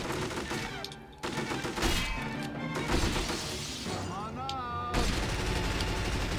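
Rapid gunfire crackles in the game 007: From Russia With Love, bursts of shots and impacts rattling repeatedly over several seconds, loud and close, with occasional smashing debris and someone talking over it.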